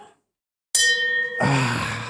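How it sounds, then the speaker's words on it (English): A bell is struck once and rings with sustained, bright tones, then a burst of loud, noisy sound takes over as it fades. "Marlon, let's ring the bell, Flatfoot."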